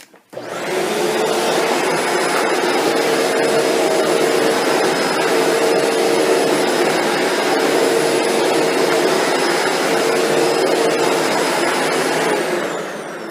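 A Shark Apex vacuum cleaner in thick carpet area rug mode switches on and runs at a steady, loud motor whine with a high tonal hum, then begins to wind down at the end.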